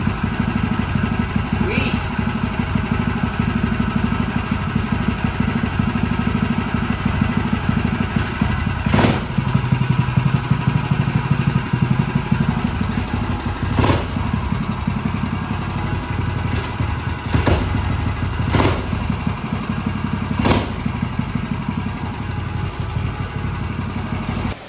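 A $50 mini bike's small engine fires up on a pull and runs steadily, a loud continuous buzzing drone throughout with a few sharp thumps and clatters along the way, and a brief voice comes in partway.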